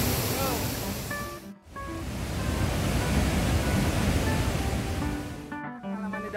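The rushing waterfall at Johnston Canyon in Banff roars as a loud, steady broadband wash, while people talk briefly over it.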